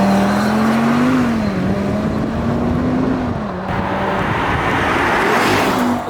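A 2022-era Audi RS3 8Y launches hard under launch control, its five-cylinder engine loud and close as it revs, shifts with brief dips in pitch and keeps pulling strongly.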